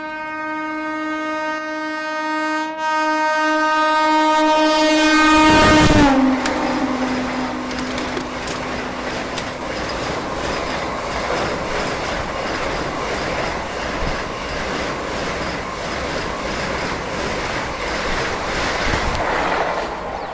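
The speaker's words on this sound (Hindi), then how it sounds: "ट्रेन वहाँ रुकी हुई थी और उसके बाद से जो स्पीड पकड़ी इसने ना, इसीलिए भाई वंदे भारत है" A Vande Bharat train overtakes and accelerates past. A rising tonal whine leads into a loud rush as it draws level, then steady clattering wheel and rail noise continues for a long stretch as it speeds by.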